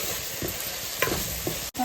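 Masala paste fries in a pan as the base for a small-fish curry with raw mango pieces, Bhimavaram style. Soft sizzling runs throughout, broken by a few stirring scrapes, close and fairly quiet, with no talk.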